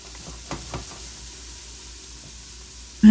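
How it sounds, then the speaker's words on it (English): Red tomato sauce sizzles faintly in a pan while being stirred, a soft hiss with a couple of light scrapes early on, then a sudden louder noise right at the end. "Give it a stir."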